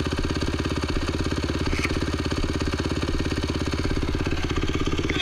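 A small engine, probably a motorcycle or dirt bike being kick-started, runs loud and close with a steady, rapid chugging idle throughout.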